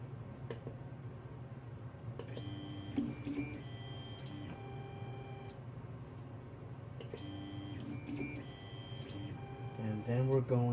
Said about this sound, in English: And what we'll do is we'll home the printer.